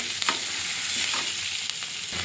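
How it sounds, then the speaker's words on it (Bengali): Chopped onions sizzle in hot oil with nigella seeds for a potato and hilsa curry, stirred now and then with a few scraping strokes over a constant, close frying hiss. "পেঁয়াজটা ভাজা ভাজা করে নেব"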